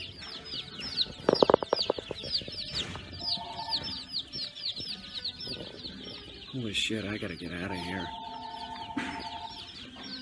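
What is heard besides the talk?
chickens clucking in a farm supply store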